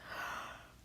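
A voice imitates a big, drawn-out yawn, a soft breathy exhale that swells and slowly fades, heard alone and fairly quiet.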